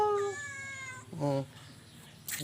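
A cat meows a few times inside an old traditional house, the cries short and fairly close, mixed with a person talking nearby.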